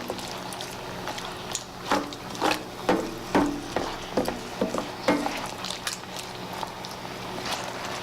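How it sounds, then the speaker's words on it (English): Shrimp stirred into a reducing scampi sauce in a pan, giving soft wet stirring clacks and light sizzling in an irregular rhythm, close by and moderate, with no talking. "I'm going to add my shrimp. I'll give it a real good mix."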